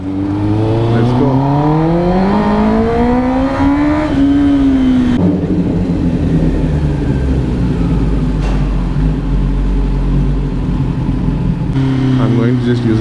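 2022 Kawasaki ZX10R superbike riding with a loud exhaust, revving up through rising and falling engine tones, then a sustained roar with wind, close and loud throughout.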